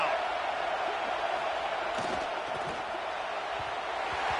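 Steady roar of a football stadium crowd during a Florida State game on a third-and-goal defensive stand, a dense continuous wash of noise with slight surges, heard from a distance.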